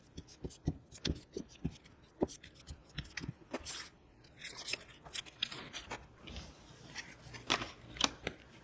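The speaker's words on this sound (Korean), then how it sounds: "카드를 2장 정도 뽑아보도록 해보겠습니다" Tarot cards being shuffled and drawn for a reading, a quick series of soft, papery flicks and snaps, close and fairly quiet, with no talking.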